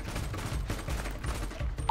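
Rapid bursts of gunfire in GTA 5 roleplay rattle on loudly and continuously, a dense fusillade of close shots with no talking over it.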